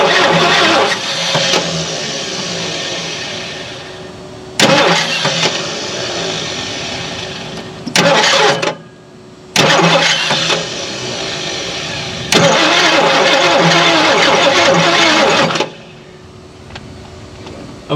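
A Lincoln Continental, abandoned for 32 years, cranks on its starter in repeated loud bursts of several seconds each, separated by brief pauses, with the grinding turnover close and dominant.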